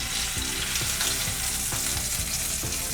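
Chicken sizzles in a pan on the stove, giving a steady dense crackle of hot oil with light stirring and scraping pulses throughout, close and continuous.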